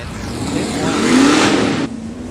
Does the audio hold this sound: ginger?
no